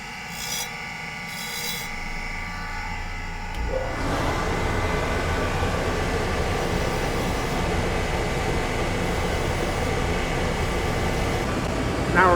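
A grinding wheel on an old tool being dressed slowly and finely, with a steady, loud abrasive rasping that starts a few seconds in and continues unbroken over the motor's hum.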